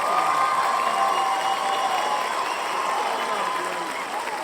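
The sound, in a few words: audience cheering and applause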